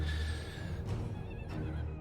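A horse neighs in a video game, the whinny ringing out over a dense, steady wash of battle noise from an army of infantry attacking artillery, with no talk over it.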